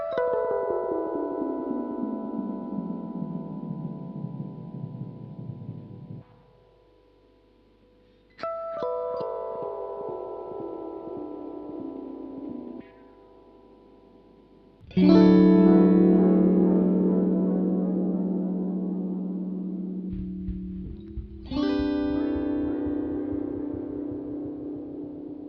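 Cusackeffects Tap-a-Delay pedal on guitar: a few ringing notes whose delay repeats shift in speed as the delay time is swept, one clearly snapping back, with decaying tails and brief near-silent gaps, no talking.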